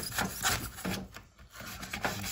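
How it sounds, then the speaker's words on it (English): Hand-carving scenery terrain for a model railway layout, a repeated close scraping and rasping rhythm of strokes into the material, a few per second with a short pause midway. "I'm gonna keep on chiseling away at this"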